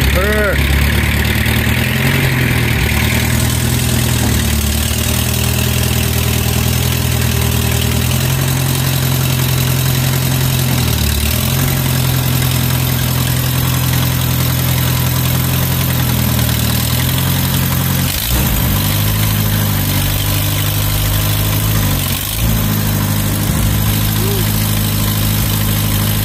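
A tractor engine idles after starting, a loud, steady low rumble with a constant throb that shifts pitch slightly as the throttle settles, close to the listener with little else audible.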